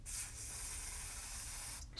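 Glue accelerator sprays from an aerosol onto a cotton bud in one continuous, steady hiss lasting about two seconds, close by and alone.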